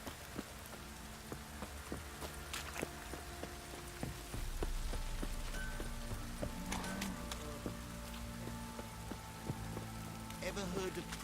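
Steady rain pours through a rainy scene in The Witcher 3: Wild Hunt, a constant wash of drops on surfaces with occasional clip-clop of horse hooves and faint game sounds layered over it, moderately loud throughout.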